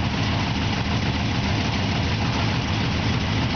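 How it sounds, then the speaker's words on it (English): A big-block 600 cubic inch, 785 horsepower boat engine with dual carburetors idles steadily, a loud, dense, continuous low rumble held without change throughout. "so I could put this big, big block, 600 cubic inch motor, 785 horsepower."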